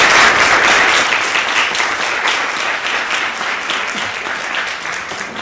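Theatre forum audience giving strong applause, a dense, loud wash of clapping that holds steady and slowly eases across several seconds.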